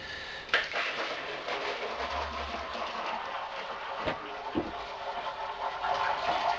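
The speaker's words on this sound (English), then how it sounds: "Now I've got 8 litres of water in the fermenter." Water runs steadily into a homebrew beer fermenter, giving a continuous close rushing hiss with a few small knocks and no talking.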